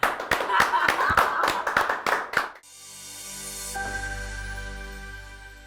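An audience gives a burst of loud applause on a podcast set for about two and a half seconds, the clapping stopping abruptly before a steady music bed fades in.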